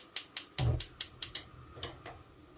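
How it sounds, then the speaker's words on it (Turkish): A gas stove burner is lit under a pot holding four eggs: a quick run of sharp igniter clicks, about eight in all, with a soft low whoosh as the flame catches early on. "Evet hemen şimdi ocağın altını açıyorum."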